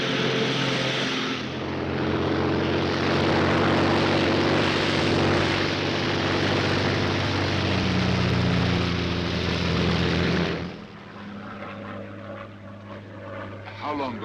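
A Royal Air Force propeller plane drones loudly and steadily in flight for about ten seconds, then the roar drops away abruptly to a quieter, softer engine hum.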